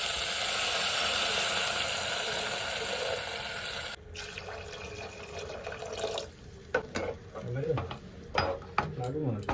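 Water pouring in a steady rushing stream into a cooking pot of browned ingredients for about four seconds, then stopping, followed by clinks, stirring and scraping in the pot.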